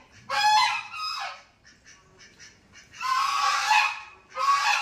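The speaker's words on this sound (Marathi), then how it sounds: "बदकांचं क्वॅक क्वॅक सुरू आहे." Ducks on a farm outing call out in loud, harsh, honking quacks, delivered in three long overlapping bursts close by with short quieter gaps between them.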